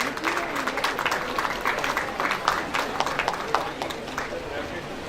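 Audience applause at a school investiture ceremony: dense, steady clapping from a large crowd holds for the full five seconds, with scattered sharper claps and a murmur of voices underneath.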